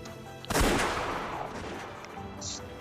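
A single loud gunshot in the Umineko visual novel, a sharp close crack with a long decaying boom and reverberant tail over quiet background music.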